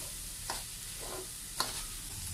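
Ginger and green chilies sauté gently in a pan over a slow flame, making a quiet soft sizzle with two brief spoon clicks, and nobody talks.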